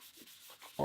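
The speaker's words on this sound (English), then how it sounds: "I always tend to do buffing with the grain instead of cross grain" Rag buffing oil finish with the grain onto stained guitar wood: a soft, brief rubbing swish, close and quiet, ending in a sudden louder scrape.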